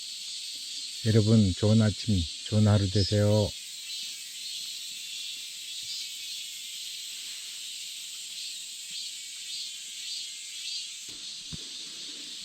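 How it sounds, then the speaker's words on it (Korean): Steady, shrill cicada buzzing fills the whole clip at a small foggy Buddhist temple in Mungyeong, South Korea, with a brief spoken greeting near the start and a couple of faint knocks at the end. "분위기 좋네 매미 소리가 들리고"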